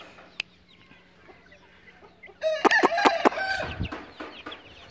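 Aseel chickens in a yard on a cold December day: a quiet start with a faint cluck, then a loud nearby rooster crow with sharp clucking bursts, followed by more squawks and clucks.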